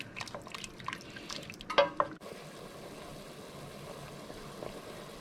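Pot of dry white wine heating toward a boil for cooking mussels, giving soft bubbling and sizzling with a few brief drips and clinks near the start, then a steady low simmer hiss.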